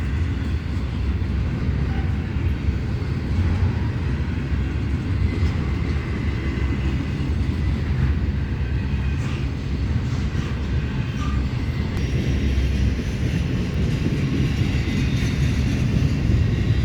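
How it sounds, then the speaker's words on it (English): A Norfolk Southern intermodal freight train rumbles steadily past nearby, a continuous loud roar of wheels and cars on the rails with no letup. "And here comes the end of the train here."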